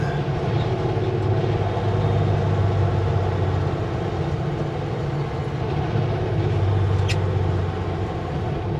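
A vehicle engine slowing on a back-country road, with a steady low droning rumble and constant road noise at close range and no talk.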